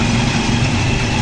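Motor tricycle engine idling steadily nearby, a continuous low rumbling drone with no change in pitch, no voices over it.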